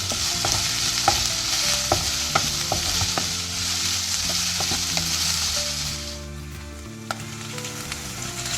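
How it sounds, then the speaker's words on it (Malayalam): Onions sautéing with garlic, ginger, green chili and curry leaves in a hot pan for a mango curry, under a steady sizzle with repeated scraping and tapping of a stirring spoon that eases off toward the end. "ഇനി നന്നായിട്ട് നമ്മുടെ വഴണ്ടുന്ന വരെ നമുക്ക് ഇളക്കിയെടുക്കാം."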